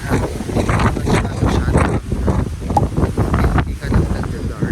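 Strong wind on a Boracay beach buffets the microphone in loud, continuous gusts while people talk underneath.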